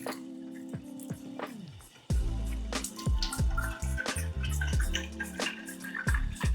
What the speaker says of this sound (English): with every rinse, you can see by the water that I pour out, the water starts to look a bit clearer